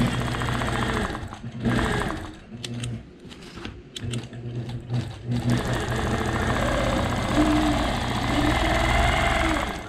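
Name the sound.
quilting machine stitching a memory quilt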